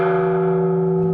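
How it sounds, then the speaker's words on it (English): A Japanese shrine bell struck once for the New Year rings out deep and metallic, its steady tone holding and slowly fading over a faint low hum, with no voices present. "When I strike the bell, the deep metallic sound echoes through my ears and almost into my chest."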